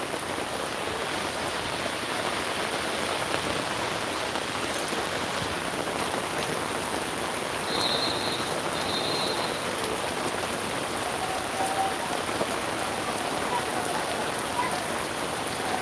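Heavy rain pouring down outdoors at Epcot, a dense, even hiss of drops on surfaces filling the whole stretch, steady and close with no letup.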